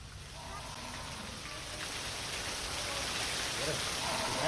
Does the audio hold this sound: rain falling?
yes